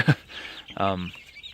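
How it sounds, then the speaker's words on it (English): Young chicks in an outdoor brooder housing about 150 birds in single-digit cold, giving a few nearby clucking, chirping calls with short gaps between them. "So I have 150 birds in here"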